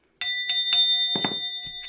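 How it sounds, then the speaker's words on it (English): A small bell is struck several times in a steady rhythm, each bright ding ringing on with a sustained tone, followed by a few duller knocks, close and fairly loud. "I'm going to be hitting the bell."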